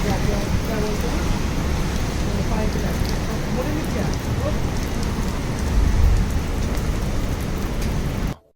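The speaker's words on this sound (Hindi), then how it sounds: "पर बारिश आ गई" Steady heavy rain pours down outside a seafood restaurant in Airoli, a dense unbroken hiss that swells briefly near the end before cutting off abruptly.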